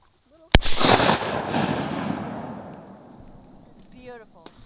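A shotgun fires a single loud, close blast at ducks during a Wisconsin duck season opener hunt, with the report rolling and decaying over several seconds; faint duck calls and voices follow near the end.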